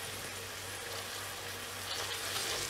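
Mint and coriander sautéing in a pot while making coconut milk pulao, a steady soft sizzle that continues evenly throughout, with no talking.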